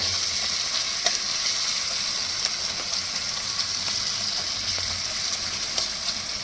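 Hilsa fish pieces sizzle in hot oil with a steady, dense hiss broken by small pops and crackles, close and continuous with no voices.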